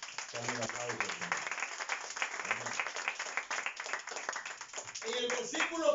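A church congregation claps hands for the Lord during a service, a brisk, continuous clapping mixed with voices calling out and cheering throughout.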